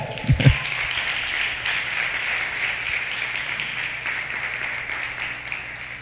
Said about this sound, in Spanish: ¿Le pueden dar un fuerte aplauso al Señor?